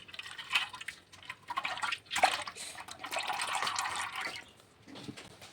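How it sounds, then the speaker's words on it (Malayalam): Oil poured into a hot pan for a homemade herbal hair oil, a close, steady liquid trickle with brief splashy bursts and no talking. "കുറച്ച് എണ്ണ ആദ്യം ഒഴിക്കാം."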